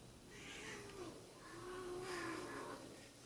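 A cat meows a few times indoors, drawn-out faint cries at moderate distance over a low background hum.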